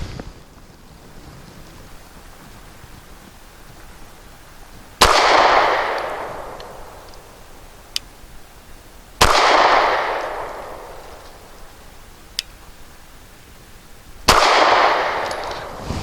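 Three loud gunshots from a Cosaint Arms COS11 pistol crack out several seconds apart, each followed by a ringing echo tail. Faint sharp clicks fall between the shots.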